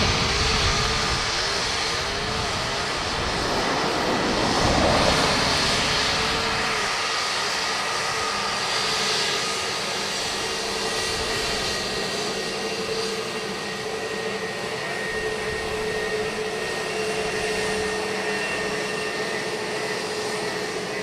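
An Air Transat Airbus A321neo at Dublin Airport produces a loud, steady engine roar with a rushing broadband hiss that swells briefly, then holds constant throughout.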